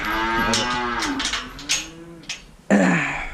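Cattle moo repeatedly while being loaded up to go to the sale, long drawn-out lowing calls from several animals, close and loud, with a final strong bellow near the end.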